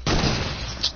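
A Desert Eagle pistol fires once in a video game, a loud, blunt shot followed by a sustained roar that trails off over about a second, with nothing else heard.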